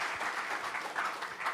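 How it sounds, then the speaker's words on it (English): Short burst of audience applause at a music business conference panel, a soft, dense wash of many hands clapping together, steady and moderately distant, with no speech over it. "Give him his applause, please"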